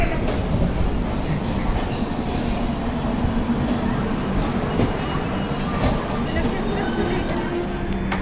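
Bilaspur Rajdhani Express pulling slowly out of Gondia railway station, a steady broad rumble of moving coaches with faint wheel clatter and occasional squeal throughout, close and continuous.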